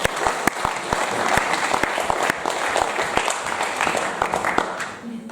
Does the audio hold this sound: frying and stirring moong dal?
no